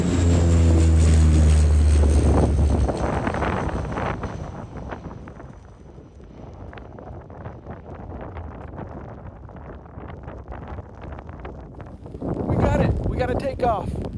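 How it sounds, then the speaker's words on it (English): Widerøe propeller plane bound for Alta in northern Norway drones low and loud at first, then fades into a rushing wash of wind and airflow noise before swelling again near the end. "That's the Widerøe plane going to Alta"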